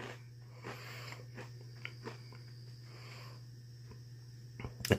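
Crunchy freeze-dried gummy candy is bitten and chewed close to the mic, with faint, sparse crunches over a steady background hum and a louder burst of crunching at the end.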